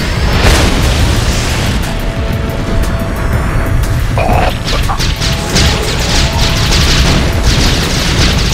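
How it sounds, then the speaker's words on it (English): A nuclear missile strike in Command & Conquer Red Alert 2: Yuri's Revenge sets off a loud, sustained booming roar with crashing debris, dense and continuous for several seconds. "Warning, nuclear missile launched."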